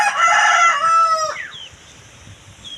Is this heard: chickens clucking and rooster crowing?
yes